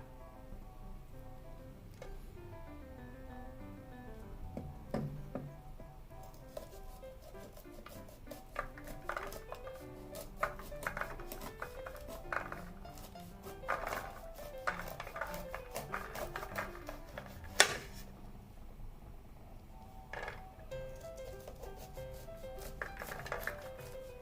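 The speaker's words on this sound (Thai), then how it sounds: "เดี๋ยวผมหั่นเอาแต่ ไอตัวเม็ดมันก่อน" A knife scrapes and taps against a cutting board cutting corn kernels off the cob in quiet, irregular strokes, with occasional soft clinks of utensils.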